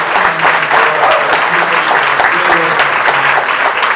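Sustained applause from an audience at a speech event, steady and dense throughout with no pauses, with faint voices mixed into the crowd noise.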